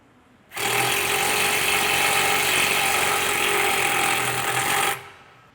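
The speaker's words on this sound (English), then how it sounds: "using self-tapping bolts out of the kit, we'll just bolt these in place" Power driver sinking self-tapping bolts to hold clamps on an ICF sweeper kit 2-arm assembly, a loud, close, continuous grinding whir lasting about four seconds, alone and without talk.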